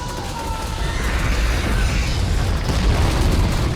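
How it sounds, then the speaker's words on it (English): Continuous deep rumbling explosions in the video game Turok (2008) roar loudly, building into a sustained thunderous wash with no clear pauses. "Explosions everywhere as we escape."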